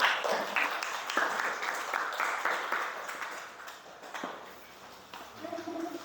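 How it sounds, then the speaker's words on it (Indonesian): Classroom applause for a student presentation group, a moderate burst of clapping that gradually thins out and fades, with faint voices near the end. "tepuk tangan untuk kelompok 2"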